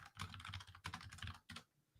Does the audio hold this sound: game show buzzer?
no